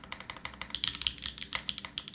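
Steady, rapid typing on an Alice-layout mechanical keyboard: a dense run of crisp, close keystroke clacks with uneven rhythm, a few louder taps standing out, and no talk over it.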